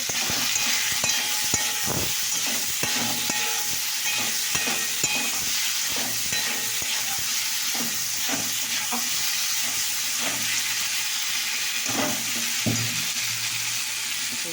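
Food frying in a pan with turmeric is stirred continuously, a steady loud sizzle and hiss broken by repeated scraping and knocking strokes of a spoon, no talk.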